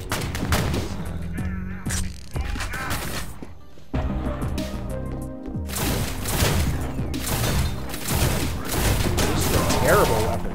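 Gunfire from a weapon in the video game Ion Maiden crackles in dense, loud bursts of rapid shots and impacts, with a voice reacting over the action.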